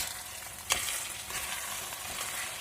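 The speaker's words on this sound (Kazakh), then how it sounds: "Енді араластырамыз." Buckwheat frying in a pan as it is stirred, giving a steady broadband sizzle with one sharp scrape of the utensil early on, close and moderately loud, with no voices.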